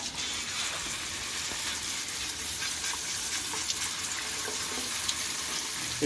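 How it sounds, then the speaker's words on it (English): Water from a tap rinses through wild raspberries in a container, a steady hissing splash that stays continuous and close throughout, with no talking. "the water can thoroughly rinse through the berries and flush any of the stuff that we don't want out the other"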